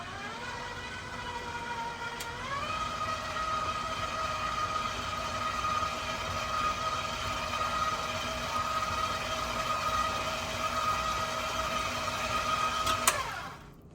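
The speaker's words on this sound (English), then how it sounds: "I'm going to start with this paddle attachment because it just kind of blends everything in a bit easier before we start the kneading process" A stand mixer with a paddle attachment mixes freshly milled bread dough, its motor humming steadily and stepping up in pitch after two seconds, then cutting off near the end with no talking.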